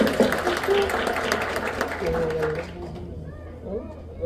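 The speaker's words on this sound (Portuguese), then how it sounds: "Uma salva de palmas para a Maíra." An audience at a round-table panel event applauds a panelist, the clapping dense and steady at first, then thinning out. Voices talk over it and a brief tone sounds near the end.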